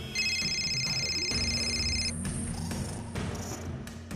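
A phone rings with steady, bright electronic tones for about two seconds in an indoor scene of a Hindi TV serial, then stops as background sound continues.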